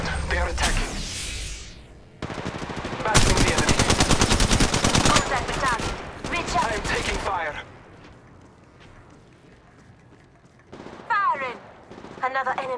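Automatic gunfire from Apex Legends Mobile rattles in loud, fast bursts, close and sustained for several seconds, with quieter stretches and a later burst of shots; voices talk intermittently through the action.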